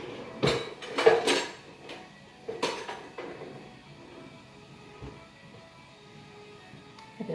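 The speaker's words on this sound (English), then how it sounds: "I need to grab my scooper real quick" A metal scooper is pulled out from among pots and pans in a kitchen: metal pots and utensils clank and clatter in a few quick bursts, then the rattling fades to quiet.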